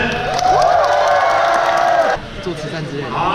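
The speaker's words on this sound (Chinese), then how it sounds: "我们给他一个掌声" Fans at a Taipei meet-and-greet cheering and applauding MotoGP rider Maverick Viñales, a loud burst of crowd shouts and whoops that drops off sharply after about two seconds, leaving scattered voices.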